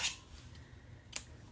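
Scissors snipping through ribbon for a handle, one sharp crisp cut at the start and a second brief snip near the end, close and quiet.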